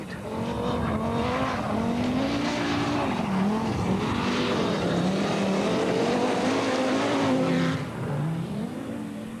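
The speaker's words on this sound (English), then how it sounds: "In the bright yellow Audi Quattro, the effervescent Lebanese Michel Saleh, never a man to give himself or his car an easy time" A bright yellow Audi Quattro rally car at the Dubai Rally roars loud and near, its engine rising and falling through gear changes with tire scrabble, dropping away briefly near the end, and no talking.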